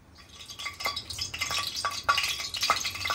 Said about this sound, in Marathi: तर पहिले आपण भेंडी फ्राय करून घ्यायची आहेत आपल्याला।